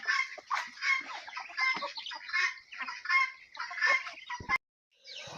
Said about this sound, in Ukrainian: У нас маленькі цесарята ночували разом з дорослими цесарятами-курчатами.